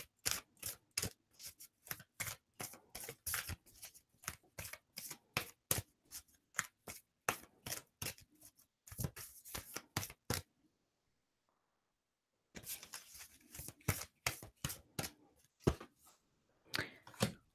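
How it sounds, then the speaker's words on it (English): Rapid, crisp flicking and snapping of tarot cards being shuffled, in repeated bursts with a brief pause midway, fairly quiet and close. "You guys saw me shuffling."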